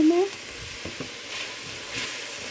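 Salted vegetables stirred and sizzling in a pot for green chile chicken chowder, a steady close frying hiss with a few soft scraping stirs, heard alone.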